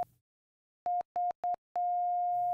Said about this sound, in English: We just built a keyboard-controlled sine wave synthesizer.